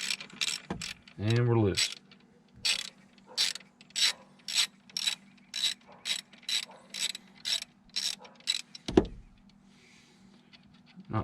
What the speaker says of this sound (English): I'll take my wrench, take my ratchet.